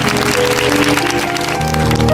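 A brief burst of classroom clapping for a student, steady and fairly loud, with music and a low hum layered underneath.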